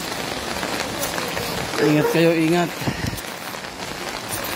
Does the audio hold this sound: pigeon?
no